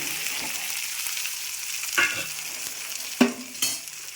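Chopped onion, slit green chilies and tomato fry in a pan, a steady close sizzle with a few scraping stirs of a spatula near the middle and end, no voices.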